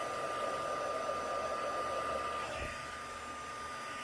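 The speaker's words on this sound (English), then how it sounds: "now I'm going to bring in my heat gun. And I'm going to let it heat up for a second" A heat gun runs steadily at close range while it heats up, a constant airy blowing roar with a thin whine, easing slightly in level near the end.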